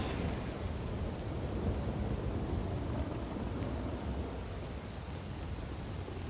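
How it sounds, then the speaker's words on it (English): A thunderstorm with heavy rain rumbles steadily through a WildRP video game scene, a dense wash of downpour and low thunder that stays loud and unbroken with no voices. "Hard to hear anything with this storm."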